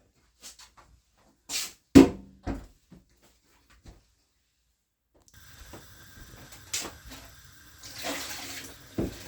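Kitchen tap water running into a sink to change soaking water, preceded by a few sharp knocks and clatters, then a steady hiss of flowing water starting midway and continuing to the end.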